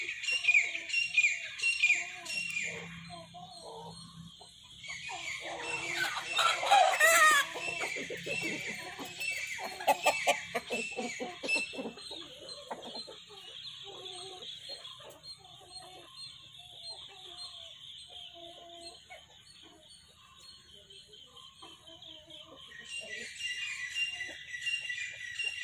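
Roosters crow and hens cluck among chirping birds in an early-morning village near a house, calls repeating close by and further off.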